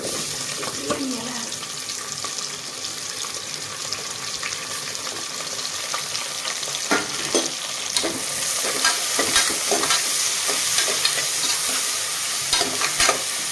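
Onions fry for a Thanjavur-style mutton biryani, a steady close sizzle with frequent stirring scrapes and clinks that grows busier and louder toward the end.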